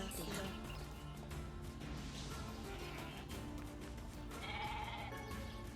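A goat bleats in the video game NieR Replicant, its wavering cries rising over layered in-game music and sound effects, with a voice talking faintly underneath.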